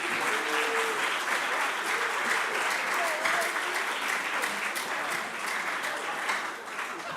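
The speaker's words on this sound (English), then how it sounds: "Let's clap for them once again." An audience at the National Investment Quiz competition quarter finals claps for the competing schools, a sustained wash of applause with faint voices and murmurs mixed into the clapping.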